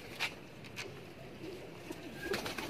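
Pigeons coo softly at close range in a quiet loft, with a few short coos and some faint rustling. No voices are heard.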